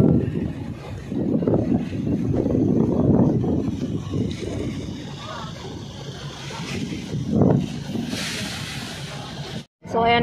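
A passenger ship setting off to sail, a steady low rumble of engines with wind buffeting the microphone, continuous and close, with a brief dropout near the end.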